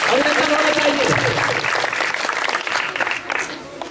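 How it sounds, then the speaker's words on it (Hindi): An audience at a theatre festival gives a folk singer a round of applause, a steady wash of clapping that gradually thins and fades toward the end. "जोरदार तालियों से अभिनंदन होना चाहिए।"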